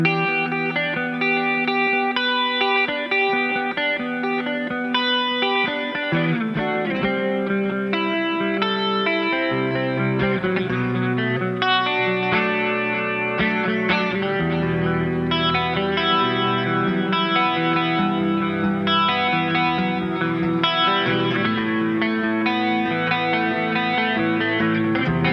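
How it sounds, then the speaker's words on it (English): Electric guitar played through a clean tone shaped by delay and chorus effects, Jazzmaster-style, with shimmering, repeating chords and notes ringing continuously and loud for the whole stretch, alone with no talking. "we're going to give you some of those more clean tones with a little bit of delay and a little bit of chorus"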